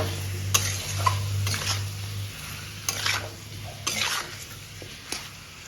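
Chicken seasoned with chilli powder and salt fries in a pan for chicken tehari, a soft crackling sizzle with several sharper scrapes of stirring and a steady low hum beneath, close and moderately quiet.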